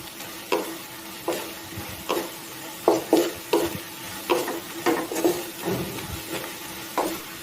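Okra stir-fried in a pan, a steady sizzle broken by repeated scraping stirs of a spoon against the pan, close and fairly loud with no voices.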